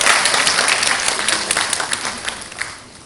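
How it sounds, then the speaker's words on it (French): An audience applauding steadily, a dense wash of clapping that fades slightly toward the end. "Vos applaudissements constituent mon premier salaire."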